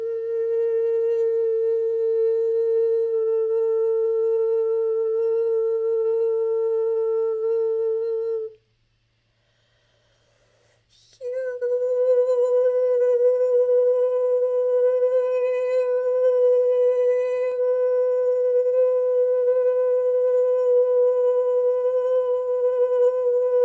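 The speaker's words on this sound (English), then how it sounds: "These are two beautiful clearing tones" Two sustained pure clearing tones in a sound healing session, the first ringing steadily for about eight seconds, then a brief silence before a second slightly higher tone enters and holds to the end, with no voices.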